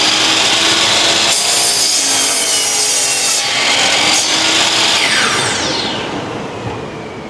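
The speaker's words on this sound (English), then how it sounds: "then you'll want to be able to activate the saw by pulling the trigger" A compound miter saw spins up and bites through wood, a loud, harsh whine and rasping cut running almost continuously, with a few sharp shifts as the blade passes through and then a slow fade as it winds down.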